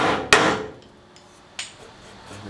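A hammer strikes sharply twice while knocking out a dent, each hit a loud metallic bang with a short ringing decay, the blows about a second apart.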